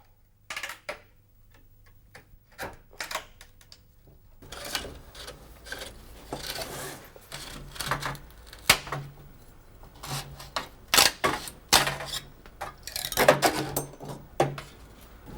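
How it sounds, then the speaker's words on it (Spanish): Dry cracking and scraping sounds of bamboo cane being split with blades slid into its cracks for a fishing rod, irregular taps and rasping bursts close by, growing busier toward the end. "se raja la caña deslizando otra cuchilla entre las hendiduras"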